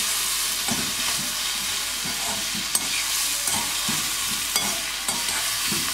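Onions fry in a very hot cheenachatti wok, a steady loud sizzle with occasional stirring scrapes and clicks throughout.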